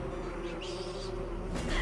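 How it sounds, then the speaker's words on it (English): Buzzing bees in the video game Metroid Prime Remastered, a steady droning hum that fills the whole stretch, fairly loud and close, with no talking. "Bees! Not the bees! Not the bees!"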